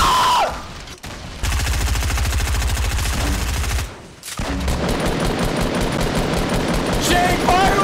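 Rapid automatic gunfire in Fortnite Battle Royale at Dusty Divot, loud sustained bursts broken by a brief pause, with shouting voices over the shots.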